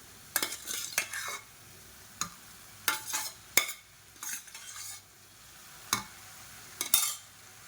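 Cooked basmati rice being stirred by hand into a cauliflower and pea mixture in a pan, with a spoon scraping and clacking in a series of distinct strokes over a faint sizzle, with no voices.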